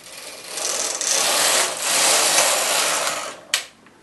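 A knitting machine carriage sweeps across the needle bed in one continuous mechanical whir and rattle for a row, ending with a sharp clack near the end.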